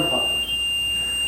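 A REM pod ghost-hunting device sounds its alarm inside a theater, a steady, high electronic tone holding throughout over a low room rumble, with a brief voice-like murmur at the start.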